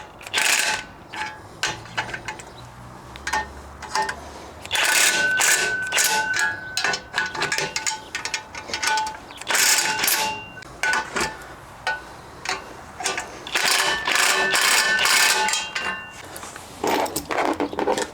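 A ratcheting wrench tightens the hardware on a spare tire carrier, producing loud, close, rapid clicking runs that stop and start repeatedly.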